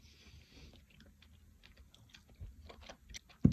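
Close, quiet chewing of dried fruit with soft, irregular crunches and moist clicks, growing slightly louder toward the end.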